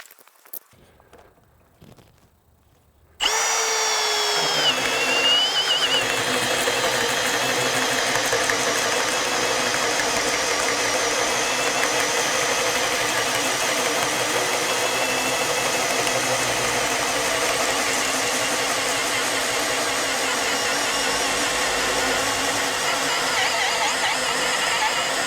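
A Milwaukee power drill on a CP3.0 High Output battery boring into stacked wood: after a quiet start, a loud, steady motor whine with grinding bite begins abruptly and holds without pause.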